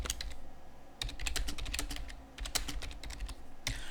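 A line being typed on a computer keyboard at a Linux command prompt, a close, quick run of light key clicks in uneven bursts with brief pauses and a firmer keystroke at the end.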